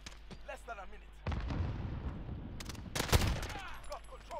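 Rapid bursts of AS Val suppressed rifle fire in a video game, dense crackling shots running continuously through most of the clip with a louder cluster near the end, while a voice speaks faintly underneath.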